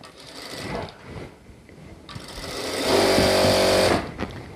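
Sewing machine stitching fabric for half pants: short bursts of fast mechanical whirring, an intermittent run early on, then a louder sustained run near the end, close-up with no talking.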